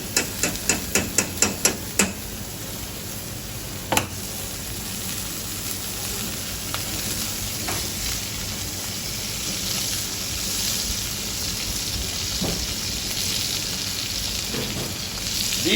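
Fresh butter sizzles steadily around a steak searing in a hot frying pan, opening with a quick run of sharp knocks before settling into a continuous crackling hiss with occasional pops.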